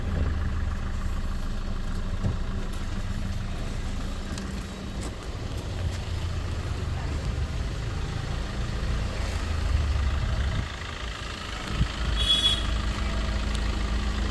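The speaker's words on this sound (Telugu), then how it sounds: "ఒకసారి నేను బానెట్ లిఫ్ట్ చేయకుండా ఒకసారి బీటింగ్ అనేది వినండి. ఇంజన్ స్టార్టింగ్లో ఉంది." A 2017 Maruti Ciaz diesel car idles with its bonnet closed, giving a steady low engine rumble that holds evenly throughout with no talking.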